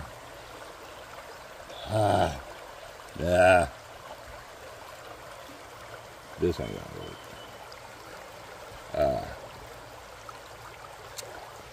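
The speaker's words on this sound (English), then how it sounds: "I got a lot of water rolling underneath it." Water rushes steadily through a gold prospecting sluice on Indiana tailings, a low continuous flow running beneath a man's short spoken remarks.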